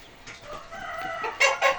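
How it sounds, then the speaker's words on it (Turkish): A Sebright rooster crows nearby, a short, strained call rising in a few bursts, loudest at the end. "Şurada zibrit horozumuz var."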